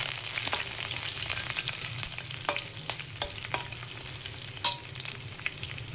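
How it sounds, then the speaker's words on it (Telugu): Curry leaves frying in oil in a pan for broccoli and mushroom fried rice: a continuous hissing sizzle with scattered crisp pops and light stirring clicks, close and fairly quiet. "ఇది 2 నిమిషాలు ఫ్రై అవ్వాలి."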